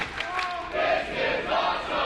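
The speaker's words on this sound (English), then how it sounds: "Listen to this crowd, Blake." A large wrestling event crowd roars and shouts in sustained, loud waves of cheering that swell and rise together, filling the arena with no clear single voice.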